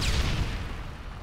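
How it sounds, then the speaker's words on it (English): A stun grenade going off in Call of Duty MW2 Search and Destroy, a single loud, close burst that opens with a sharp crack and fades into a rumbling tail. "Throwing a stun grenade."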